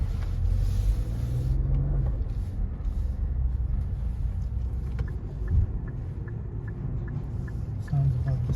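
Steady low cabin rumble from a Nissan Rogue SUV with a CVT transmission, driving with a quiet interior. The drone is continuous and moderate, with a faint repeating tick and a few light knocks.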